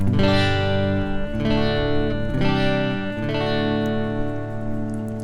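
An electric guitar plays a clean tone through a SansAmp amp simulator, ringing out sustained chords that change every second or so, full and steady with no voices.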